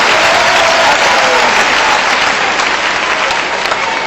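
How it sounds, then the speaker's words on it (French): A crowd at a live stage show applauds loudly, a dense and sustained roar of clapping that fills the whole stretch with a bit of crowd noise. "Applaudissez"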